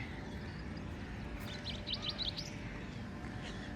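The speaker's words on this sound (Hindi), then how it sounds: "छोटी छोटी चिड़िया है, लेकिन कितना सारा आवाज़ करती है ये वाली।" Small birds chirp in a quick cluster of high tweets over a steady outdoor rumble on a morning at Khalghat by the Narmada river, fairly distant and soft.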